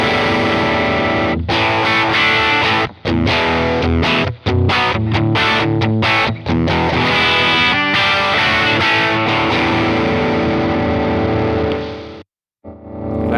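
A Divided by 13 EDT 13/29 guitar amplifier switched to Class A mode, played with heavy distorted chords ringing in sustained bursts with brief gaps, loud and up close, cutting out near the end.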